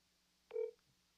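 One short electronic tone, like a single keypad press while dialing a telephone, stands out faintly against a quiet background.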